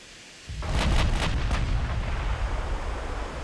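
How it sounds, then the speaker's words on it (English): Battleship main guns firing in the naval game UA:D, a heavy salvo of several booming blasts in quick succession, followed by a long rumbling roar that fades slowly. "All 8 guns on the go."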